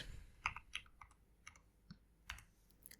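A short Linux terminal command is typed on a computer keyboard, a handful of separate, close, crisp keystrokes spaced irregularly over a faint background hiss.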